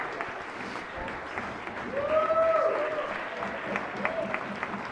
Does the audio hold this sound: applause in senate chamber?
yes